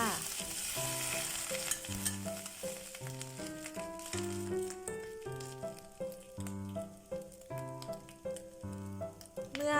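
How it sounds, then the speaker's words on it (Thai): Steady sizzling and frying with scraping stirs as noodles are stir-fried in a wok, close and continuous, under a bed of music. "คั่วเส้นไปมา ให้มีกลิ่นหอมของกระทะค่ะ"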